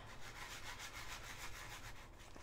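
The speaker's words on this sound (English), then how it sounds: "Just gonna sand it a little bit." Hand sanding a small broken-off piece, likely wood, with a steady continuous rasping scrape that stays close and fairly even throughout, with no talking.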